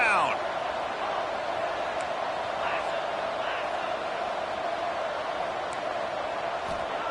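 Loud, constant crowd roar fills the stadium as fans urge on the Falcons on third down in the NCAA 25 football video game, a thick wall of noise running beneath a commentator's voice.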